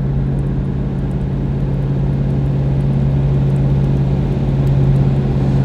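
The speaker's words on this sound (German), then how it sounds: "wie wir auf die Alpen zufahren mit diesem tollen Auto" A 1935 Horch 850 Sport is driving toward the Alps, its engine holding a steady, even drone with road noise that swells slightly near the end. No one speaks.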